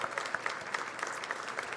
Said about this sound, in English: So we'll give a big round of applause